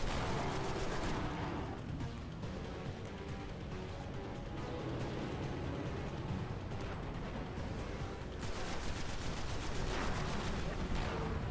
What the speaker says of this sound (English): Fire, Nick. Fire.